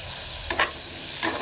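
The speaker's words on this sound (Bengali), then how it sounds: "পেঁয়াজ আর কাঁচা লঙ্কা দিয়ে আলু উচ্ছে ভাজা হচ্ছে" Potato and bitter gourd fried in a pan with onion and green chili: a steady hiss of frying broken by a few quick scraping stirs, close and fairly loud.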